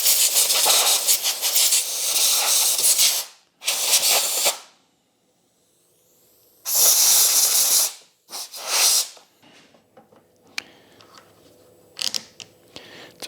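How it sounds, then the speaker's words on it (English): A compressed-air blow gun blasts dirt off a John Deere JS60 push mower in loud, close hissing bursts of several seconds each, separated by silences, followed by shorter spurts and faint clicks. "I'm going to get the blow gun and kind of blow that off a little bit"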